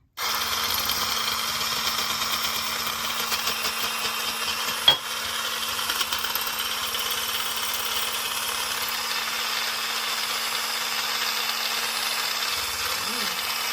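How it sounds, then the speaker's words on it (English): A small immersion blender with a frother attachment whirs steadily at close range frothing milk, a constant high motor hum with one brief click partway through. "We're using an immersion blender that has an attachment as a frother."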